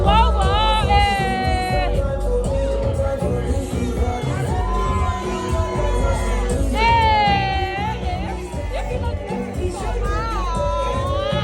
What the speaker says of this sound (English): Please, once I shout, make some noise for Vivian.